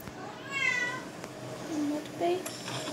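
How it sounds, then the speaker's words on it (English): A cat meows indoors, a clear wavering call followed by a couple of shorter, fainter mews against a quiet room background. "that was my cat who meowed"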